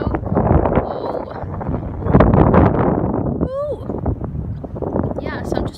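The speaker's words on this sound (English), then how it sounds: "You guys see how like crazy windy this is right now?" Strong gusty wind buffets the microphone at the seaside, a steady roaring rumble with louder surges, while a person talks over it and a gull-like cry rises briefly near the end.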